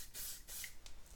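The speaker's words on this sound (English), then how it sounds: "Now with the same stuff, I'm gonna spray in the cup" Silicone waterproofing spray hisses from an aerosol can into a cup in three short, close, quiet bursts, with no voices.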